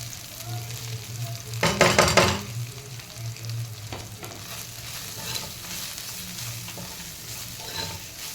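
Ground meat, home-minced, fries in a pan as black pepper, garam masala, red chili powder, turmeric and salt go in. It gives a steady close sizzle, a louder burst of hiss as the spices hit, then scraping stirs.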